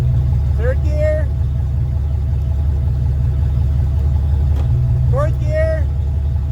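A steady, loud engine drone runs throughout while a Ford 6R80 transmission on a test setup shifts into gear, with a person talking briefly over the hum twice.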